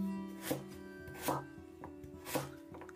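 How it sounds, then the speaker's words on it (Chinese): A knife chops a white radish into chunks on a board, with three heavy, evenly spaced thuds and a lighter tap between them, close and clear over faint background hum. "把萝卜呢，我们给它切成块"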